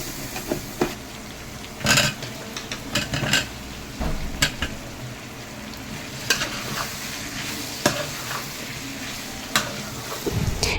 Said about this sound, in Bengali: মশলাটা ভালোভাবে ভাজা ভাজা করে কষিয়ে নিচ্ছি